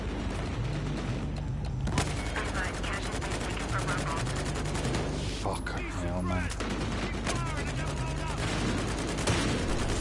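Shotgun and other gunfire in the shooter game Battlefield Hardline, loud dense bursts of shots running through the whole stretch amid game noise, with a voice talking over the action.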